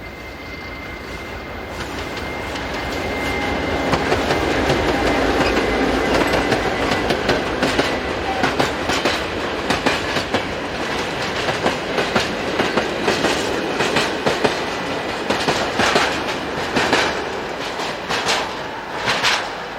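A freight train hauled by locomotives in Poland approaches and passes, its rumble building and then holding steady with rhythmic clickety-clack from the wheels and no talk.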